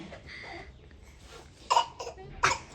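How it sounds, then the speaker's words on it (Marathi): Three short, sharp coughs come in quick succession near the end, after a stretch of quiet background. "खोकला येतोय."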